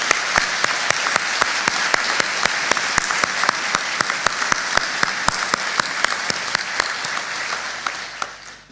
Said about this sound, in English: Please join me in a big round of applause for Christina.